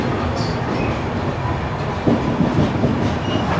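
A Hampi Express train on Indian Railways pulls out of Yesvantpur with a steady, loud rumble. A rhythmic clickety-clack of wheels over rail joints picks up midway, and no one speaks.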